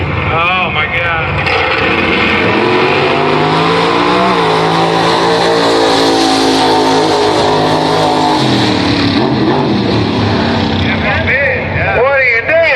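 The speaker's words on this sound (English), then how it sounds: "And left lane, Mustang gets the win." Loud engine roar of a Mustang drag car accelerating hard down the lane at a no-prep street outlaws race, with a rising engine pitch and crowd voices and shouting over it throughout.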